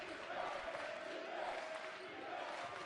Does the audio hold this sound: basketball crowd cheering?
yes